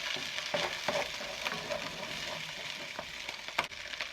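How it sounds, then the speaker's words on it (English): Beaten eggs sizzle in a hot pan for beef fried rice. Close stirring scrapes and light clicks of a utensil break through the even frying hiss. "now you're going to add your 2 beaten eggs. Stir that up real good."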